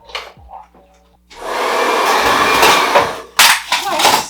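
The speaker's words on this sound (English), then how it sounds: "I guess I need to plug in my blow dryer." A hair dryer switches on and blows with a steady loud roar, briefly cutting out and starting again, after some quiet handling noises.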